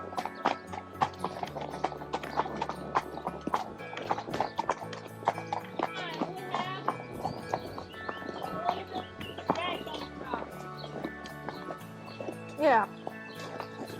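A horse canters along a path through dense green forest, its hooves clip-clopping in a steady, uneven rhythm close by, with an occasional whinny and people talking over the hoofbeats.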